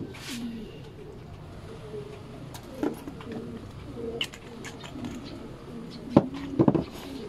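Racing pigeon cooing softly at close range, with low repeated coos over a quiet background and a few brief louder calls near the end.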